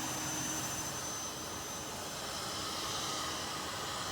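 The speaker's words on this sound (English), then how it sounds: "The engine sound was phenomenal on takeoff." A rear-mounted jet engine on an old Fokker 100 T-tail airliner, heard from a cabin window seat right beside it, makes a steady, muffled roar with a thin high whine running through it, even and unbroken.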